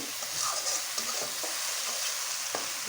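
Spice masala for a spicy egg bhuna sautés in a pan while a spoon stirs and scrapes through it, making a close, steady sizzle broken by irregular scraping strokes, with no voices.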